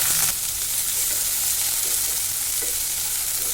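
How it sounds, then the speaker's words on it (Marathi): Bitter gourd pieces roast in a small amount of hot oil in a pan, giving a loud, continuous close-up sizzle with faint stirring scrapes and no talk. "त्यामध्ये मी हे कारलं छान भाजून घेणार आहे"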